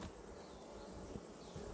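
Honey bees hum around a tall hive as a super is evacuated for harvest, a faint, continuous buzzing drone with no break.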